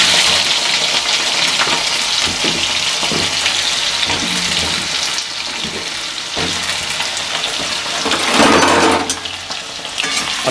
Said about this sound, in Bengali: তো এখন আমি আলুটা ভেজে নিই, আলু কিছু দিয়ে দিই।